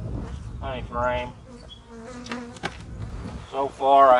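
Honeybees buzz loudly around an open hive that has a laying worker, the drone rising and falling in waves as bees fly close past.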